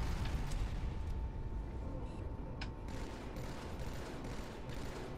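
Gunfire in the Halo 2 game at Legendary difficulty on Cairo Station, a dense, steady roar of shots and battle noise running throughout, with a few sharper cracks standing out.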